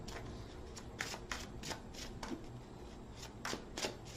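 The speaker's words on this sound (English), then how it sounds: "One more shuffle." A deck of tarot cards is shuffled close up, giving a steady papery riffle with scattered crisp snaps and taps.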